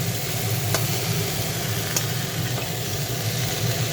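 Tempering spices fry in oil with salt and turmeric for a sweet-and-sour mango dish, giving a continuous low sizzle with a couple of sharp utensil clicks against the pan.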